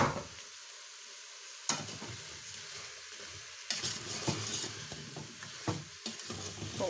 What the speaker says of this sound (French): Donc je remélange pour bien que le sucre de canne imprègne les pommes et le beurre.